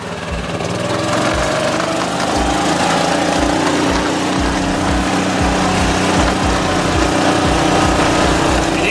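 A Kawasaki Mule utility vehicle engine, with a possible weak-spark ignition fault, runs at full throttle with a loud, steady, buzzing drone that holds constant throughout, heard up close.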